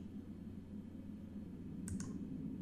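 Two quick, sharp computer mouse clicks during play of the horror game Darkness Within: The Pursuit of Loath Nolder, close and isolated over a low, quiet background hum.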